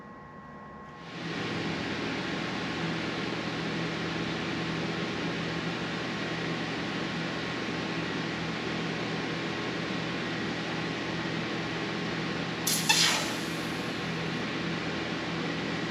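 Pressurized nitrogen hisses steadily into a Fox 2.0 adjustable reservoir shock on a Jeep Wrangler, a constant close broadband rush under a low hum, with a brief sharp metallic tick near the end.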